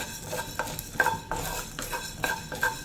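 Coriander seeds roasting dry in a hot pan for rasam powder, stirred constantly: rhythmic scraping and rattling of the seeds against the metal at close range, with only a faint sizzle underneath.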